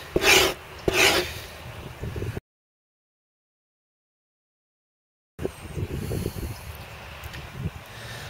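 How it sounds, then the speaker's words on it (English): Grain is scraped off an animal hide in short, rasping strokes, two bold ones at the start and then rougher, softer scraping after a stretch of total silence, with no talking. "we're going to just turn the hide, keep scraping, until we can't get any more grain off"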